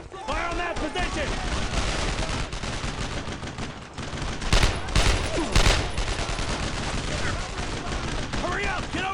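Dense bursts of rifle and machine-gun fire echo through a Brothers in Arms: Road to Hill 30 battle against a Waffen SS counteroffensive, with rapid volleys building to heavier blasts midway while soldiers shout over the shooting.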